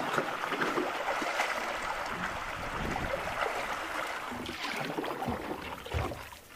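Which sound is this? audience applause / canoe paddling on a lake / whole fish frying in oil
canoe paddling on a lake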